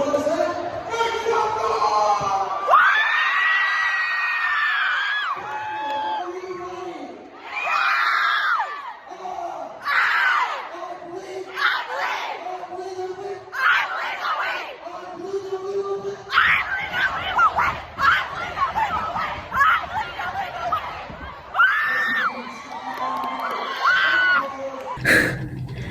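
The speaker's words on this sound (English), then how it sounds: "I was filming myself, like, screaming" A high school assembly crowd of students screams, whoops and cheers in loud, sustained waves, with excited shouting voices swelling and peaking throughout.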